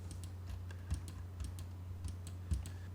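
A computer keyboard is tapped to enter AutoCAD commands, giving faint, irregular keystrokes with a few heavier key presses that sound like the Enter key, over a low background hum.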